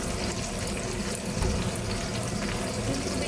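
Water pours steadily into a cooking pot holding salmon pieces, a continuous close rush of splashing liquid that stays loud and even throughout with no talk over it.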